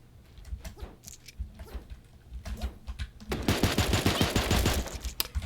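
Pistol shots in the cartoon animal battle game Super Animal Royale: a few scattered pops at first, then a dense rapid run of shots in the last two seconds, moderately loud.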